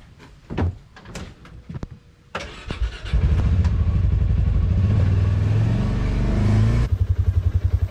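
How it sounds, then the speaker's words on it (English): Clunks and rustling as someone climbs aboard an ATV, then the engine cranks and catches into a loud, steady idle that pulses near the end; no talking. "Let's hop in the ATV."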